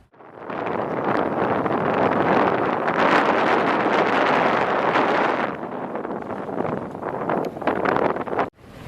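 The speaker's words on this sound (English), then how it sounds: "The wind has picked up a fair bit and we are doing decent progress." Strong wind roars across the microphone on a sailing yacht making a passage toward Italy. The gusty rushing is loud and sustained, easing and turning more broken near the end, with no talking.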